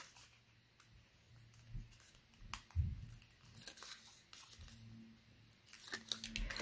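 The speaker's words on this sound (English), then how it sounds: "Remove the paper backing." Soft crinkling and tearing as a paper backing is peeled off tape, with scattered small crackles and rustles, close but quiet.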